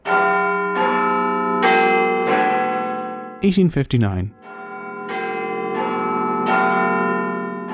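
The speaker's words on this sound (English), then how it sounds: "The construction of Big Ben is completed, the bell and clock tower that would become one of the most recognisable images of Britain." Big Ben, the great bell in the London clock tower, rings out in loud, sustained strikes about every second. Each blow rings on with a long shimmering decay, and a brief burst of speech interrupts the chiming midway.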